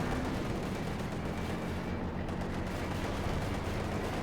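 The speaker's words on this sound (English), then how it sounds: "Decent hit there from the line gun on the T-35." Tank gunfire and battle din from the strategy game Company of Heroes 2, a dense, continuous rumble of explosions and shots with no clear separate hits and no talk.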